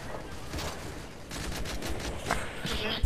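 Rapid bursts of gunfire from a Call of Duty Modern Warfare 3 match, shots crackling in quick succession over the game's steady background noise.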